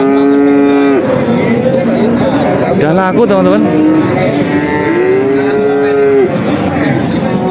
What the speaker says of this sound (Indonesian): Lah ya ini sapi banci.